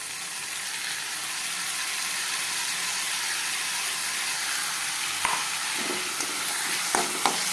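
Rice fries with spices in a pan, a steady even sizzle throughout with a few light clinks and stirring taps near the end.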